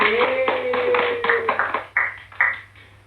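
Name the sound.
audience clapping for participants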